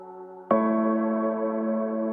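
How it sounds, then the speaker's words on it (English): A sustained tone with stacked harmonics, then a sharper, brighter chord struck at about half a second that rings on steadily, like layered piano from a Spitfire sample library. "this is the sound of a piano"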